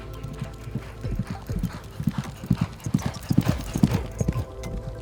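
Horses clip-clop along at an even walking rhythm in Maisons-Laffitte, a town of racehorses and riding horses, their hooves close and steady with a faint background hum.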